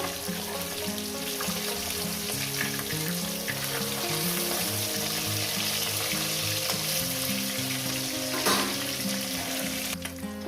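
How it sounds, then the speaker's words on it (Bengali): Rohu fish pieces fry in hot oil in a pan, making a loud, steady sizzle and spatter that runs throughout with occasional clinks of utensils and no voices. "বন্ধুরা মাছ ভাজাটা আমার হয়ে গেছে আমি মাছ ভাজাটা তুলে নিলাম"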